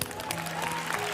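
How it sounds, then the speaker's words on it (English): Short burst of audience applause at a Pakistani reaction event, dense clapping over a low hum with faint voices underneath throughout. "Give them a round of applause."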